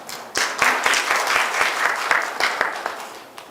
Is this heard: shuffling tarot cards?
no